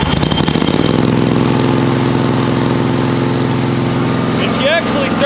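A homemade engine on a fuel-pumping tank build running right after being fired up, a loud close idle that settles into a steady low drone, with a voice briefly heard near the end.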